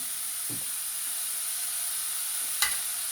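Beef liver being stirred into frying spices for a Jaffna-style liver curry, giving a constant close hiss and sizzle with a couple of brief stirring knocks, no talking.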